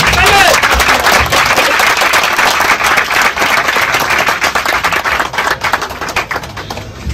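Applause from an audience at a student event, a dense continuous patter of many hands clapping that runs loud throughout and thins slightly toward the end.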